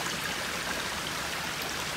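Water flows steadily near a lean-to in the Adirondacks, a continuous broadband rush and babble of a stream heard close up with no voices.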